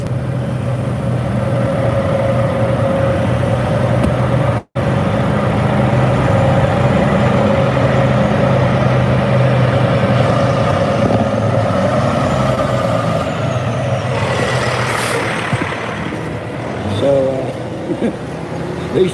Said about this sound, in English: Here goes a fire truck coming down the street.